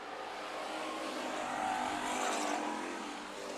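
Topless modified race cars roar around Bakersfield Speedway during a heat race, a steady dense engine drone holding loud throughout with a slight swell in the middle as the pack passes.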